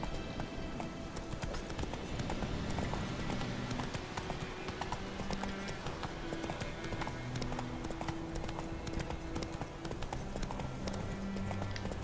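Roach, a horse in The Witcher 3, gallops with rapid rhythmic hoof clip-clops, steady and fairly close over ambient game background sound.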